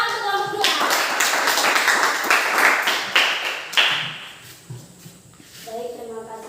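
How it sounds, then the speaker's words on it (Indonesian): A classroom applauds group 2 before their presentation: a burst of brisk, overlapping hand claps fills the middle of the clip, fading out, with talking at the start and end. "Tepuk tangan untuk kelompok 2."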